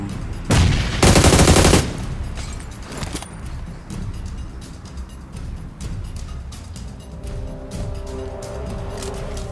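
Gunfire from shooting bots in PUBG Mobile: a loud, dense burst of rapid automatic fire up close near the start, then quieter scattered shots and rumbling in-game background noise.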